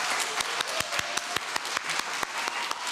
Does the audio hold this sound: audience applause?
yes